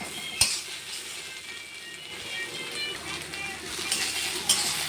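Papaya frying in a pan, stirred with a utensil, giving a soft steady sizzle broken by a couple of light metallic clinks against the pan.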